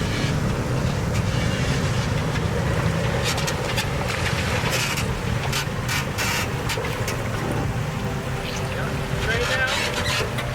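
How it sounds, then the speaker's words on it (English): A Toyota FJ Cruiser crawls over a rock garden, its engine a steady low drone beneath scraping, knocking and rumbling from the tyres and body, with people talking over it nearby. "So here comes Kai and his FJ Cruiser on this rock garden."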